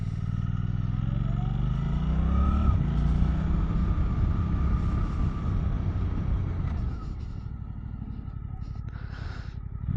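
A 2024 Suzuki GSX-8R motorcycle engine rumbles and winds down as the bike brakes hard from 20 mph, the pitch dropping under steady road noise, with a voice talking over it.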